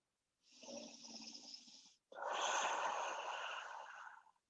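Two slow, close breaths during a resting yoga pose, a long breathy exhale followed by a brief pause and a fuller, louder second breath with a rough, snore-like texture.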